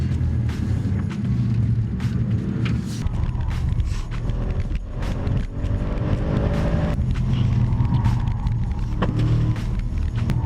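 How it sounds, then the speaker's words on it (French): Race car sliding through the twisty section of the Paul Ricard circuit in France, a steady loud engine roar with tyre and chassis noise running continuously throughout, heard from on board. "Tu sens? Ouais, la voiture qui glisse."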